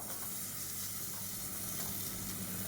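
Soaked vegetables and cauliflower fry in oil for white brinji, a soft, even hiss of sizzling that stays steady throughout without any talk.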